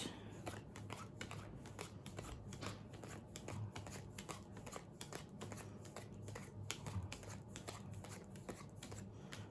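Playing cards for the trick-taking game Jekyll & Hyde are shuffled and dealt in a fast run of crisp, close riffles and snaps, quiet and steady with no talking.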